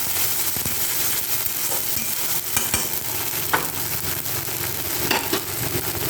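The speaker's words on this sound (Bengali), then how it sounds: "আদা পেঁয়াজ রসুন বাটা দিয়ে এই মশলাটাকে একটু ভেজে নেব" Ginger, onion and garlic paste fries in oil with salt and turmeric in a kadai, giving a dense, steady sizzle with intermittent stirring scrapes, close and loud.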